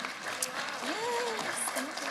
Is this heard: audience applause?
yes